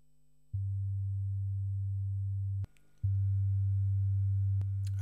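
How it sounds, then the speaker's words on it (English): Two synthesizer oscillators in the Mixtikl app sound together in unison as a steady low pure tone, cutting out briefly before resuming, with faint clicks. "And now we've got both oscillators sounding through that junction box."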